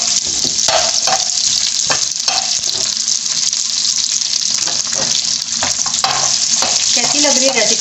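Green chillies and chopped onion frying in a pan, a loud close sizzle with repeated stirring scrapes and clatters of a spoon against the metal, continuous and dense, without anyone speaking.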